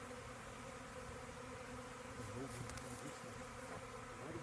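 Honey bees swarm and buzz steadily around a newly started hive, a dense continuous drone of many insects at close range with no talk over it.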